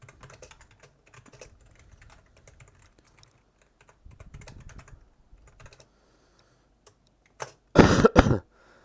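A computer keyboard is typed on during a live stream of the game Zula: soft, scattered keystrokes ticking quietly throughout, then a brief, much louder burst of clatter near the end.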